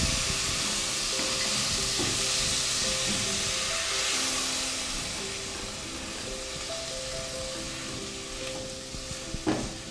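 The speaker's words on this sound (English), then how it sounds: "Maybe you can put in the tomatoes now and let them cook just a little bit." Tomatoes cook in a pan for palak tofu, giving a steady, close sizzle and bubbling hiss with occasional stirring clatter and a few faint tonal hums underneath.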